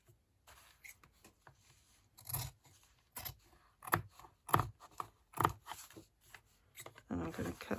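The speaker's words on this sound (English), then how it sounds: "And I'm going to cut that sort of frayed edge off." Scissors cut a frayed edge off journal paper in a series of close, crisp snips and rustles, with short pauses between cuts.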